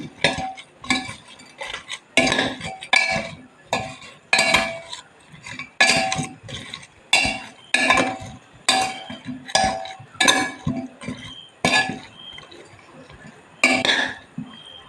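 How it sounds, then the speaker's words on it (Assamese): A spoon mixes chicken in a cooking pot, giving repeated scraping clinks and clatters of metal against the pot in an irregular rhythm, close and fairly loud. "এয়া মই ধুনীয়াকৈ মিক্স কৰিম চামুচ এখনে মই মিক্স কৰিম"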